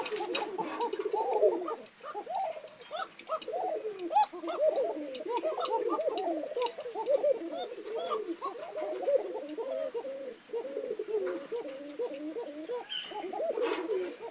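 Running pigeons, including an Arabian pair, coo continuously in a loft, overlapping low rolling calls from several birds close by with faint clicks behind.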